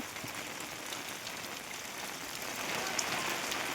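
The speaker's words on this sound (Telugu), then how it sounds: "ఎంతగా వర్షం పడుతుందంటే చాలా చాలా దారుణంగా పడుతుంది వర్షం" Steady, dense cyclone rain pours down over farm fields, a constant hissing wash that grows slightly heavier toward the end.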